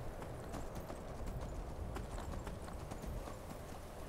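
Horse hooves clip-clop in a Skyrim-style fantasy game, a steady rhythmic stream of hoof strikes, close and continuous over a dense low rumble of ambient noise, without speech.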